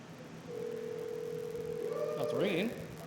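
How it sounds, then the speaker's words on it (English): Telephone call tones heard close and clear: a steady held ringback tone for about two seconds, then a brief burst of rising and warbling tones before it stops. "Oh, it's ringing."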